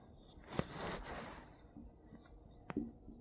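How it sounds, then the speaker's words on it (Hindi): Chalk or marker scratches across a classroom board in a few short strokes with soft taps, fairly quiet, with faint breathing nearby. "चलिए तो लिखते हैं चार्ज"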